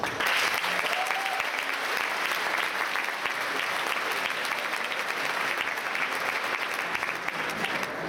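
A school graduation crowd gives a steady, full round of applause for the teachers, loud and continuous for the whole stretch with no break.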